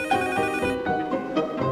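A phone rings with a bright, repeating melodic ringtone, a quick chain of tonal notes heard alone and fairly close for under two seconds.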